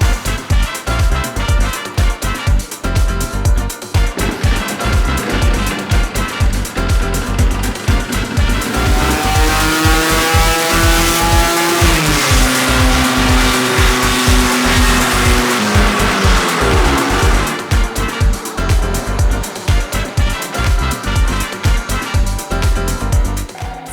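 Tuned Vespa PX scooter engine running hard on a dyno, a loud buzzing two-stroke note that climbs steadily in pitch through a long pull, peaks at full revs, then drops back to a choppy lower idle-like rhythm.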